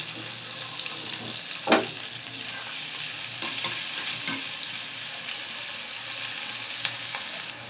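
Mixed vegetables fry with a steady broad sizzle in a pan while being stirred, with occasional scraping clanks of the utensil against the metal, a bitter-gourd dish in the making; no one speaks.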